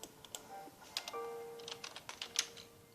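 Fingers type in quick, uneven bursts on a computer keyboard, close and fairly quiet, with no voices.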